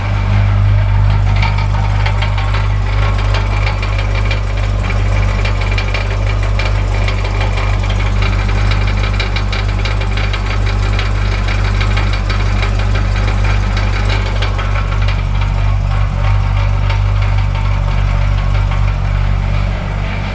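Chevrolet Corvette ZR1 idling with a steady low engine drone and a continuous rattling, clanging exhaust noise like ball bearings or marbles rolling inside the exhaust system, loud and close throughout.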